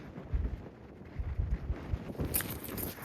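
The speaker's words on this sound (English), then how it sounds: "by gosh, it's windy and cold" Gusty wind on a cold mountain summit buffets the microphone in low rumbling bursts, rising and falling over a few seconds with a faint airy hiss on top.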